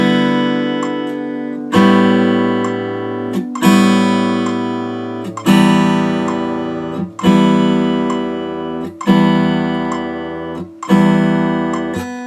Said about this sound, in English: So I'm going to play and plant at the same time now.